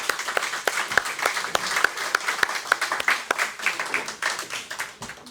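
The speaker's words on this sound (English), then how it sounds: "Let's give these folks a big round of applause." At an outdoor Democratic picnic, a crowd applauds standing veterans with brisk overlapping clapping and a few sharp individual claps standing out, steady and moderately loud before tapering slightly.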